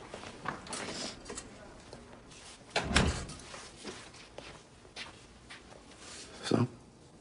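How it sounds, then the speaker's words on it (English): A door is shut in an indoor drama scene, landing as one firm thud midway, with quieter shuffling and soft talk around it. "Shut the door."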